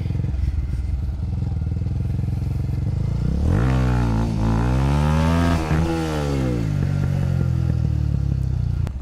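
A motorcycle popping a wheelie, its engine loud and close, idling roughly before surging into a rising rev that peaks and falls away, then settling back to a rumble, with no voices.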